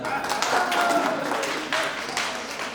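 An audience claps in scattered bursts at a Hindi poetry gathering (kavi sammelan) as a guest is welcomed to the stage; the claps are close and uneven, swelling and thinning over a few seconds.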